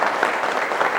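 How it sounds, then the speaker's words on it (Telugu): A crowd at a Congress party joining rally in Adilabad claps loudly and continuously, a dense, even burst of applause with no talk over it. "గట్టిగా చప్పట్లు కొట్టాల్సిందిగా నేను కోరుతా ఉన్నాను"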